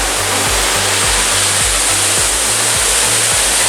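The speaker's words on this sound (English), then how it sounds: "Look how fast that water is coming down." Waterfall in Bedelands Nature Reserve, a loud, steady roar of fast water coming down, close by and unbroken. A rhythmic low thumping, likely wind or handling noise, runs underneath.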